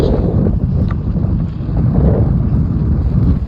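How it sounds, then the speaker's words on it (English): Strong wind blows across the sand dunes of the beach at Ocracoke, a loud, continuous low roar buffeting the microphone with gusty swells and no voices. "Wow, it's windy."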